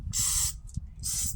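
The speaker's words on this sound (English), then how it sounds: "give them a little spray" Two short hissing bursts from a spray bottle, separated by a brief pause with a faint click between them.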